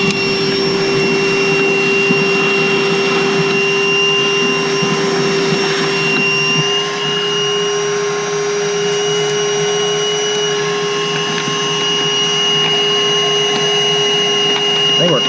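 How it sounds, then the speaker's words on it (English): A cordless Milwaukee vacuum cleaner runs nearby with a steady, high-pitched motor whine that stays constant and loud for the whole stretch. "Good thing we just bought this cordless Milwaukee vacuum."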